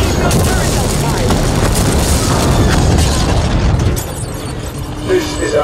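Heavy explosions and rumbling blasts pound a super carrier during a space battle in Infinite Warfare, dense and loud for several seconds before easing into a lower mechanical hum.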